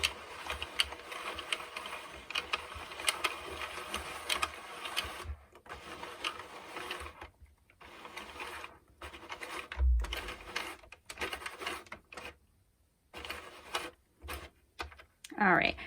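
A brand-new Sentro Mushroom House knitting machine clicks and ratchets in busy mechanical bursts with brief pauses, close to the listener, while someone talks over it.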